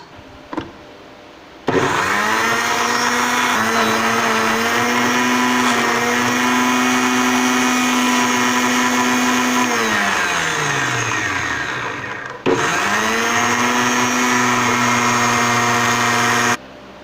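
Blender grinding mango kernels into pulp: a loud, steady motor whine that shifts pitch as the load changes and slows down, then starts again for a second run, with no talk.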